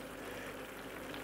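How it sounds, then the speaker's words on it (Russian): Mushrooms and potatoes fry together in a pan, giving a soft, steady, even sizzle with no talking over it. "Ну, грибы, короче, жарились где-то минут 20."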